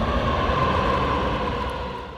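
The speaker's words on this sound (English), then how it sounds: "That's one of the trains." Washington DC metro train arriving in an underground station, a broad steady rumble and rail hiss with a faint whine, loud and close, easing off slightly toward the end.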